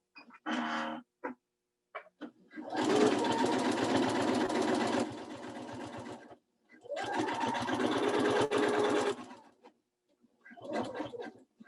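A sewing machine stitches appliqué through quilted fabric for a Christmas throw pillow, running in two bursts of rapid, steady mechanical chatter, each a few seconds long, with brief pauses and short starts between them, close and fairly loud.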